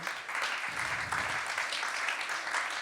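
Audience at a prize-giving ceremony applauds the winners with a continuous, fairly soft wash of many hands clapping for about three seconds.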